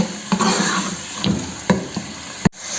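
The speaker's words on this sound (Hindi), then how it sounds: "थोड़ी देर इस मसाले को भून लें हम" Masala fries in a pan for homemade chicken dum Bombay biryani with a steady close sizzle, broken by several scraping knocks of a spoon stirring against the pan and a sharp clack near the end.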